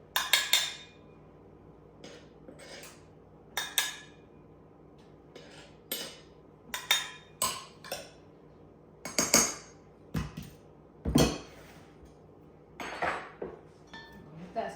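A spoon stirs flour into coffee cake batter in a mixing bowl, with scattered clinks and scrapes against the bowl coming in irregular bursts, close and fairly quiet.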